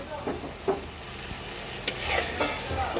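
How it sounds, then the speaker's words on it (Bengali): Spice masala sizzling in a pan as a little water goes in for a Tengra fish curry with potato and beans, a steady hiss under a few soft spoon scrapes and stirs, close by. "এখন আমি এর মধ্যে সামান্য পরিমাণে জল দিয়ে দেব মশলাটাকে কষানোর জন্য"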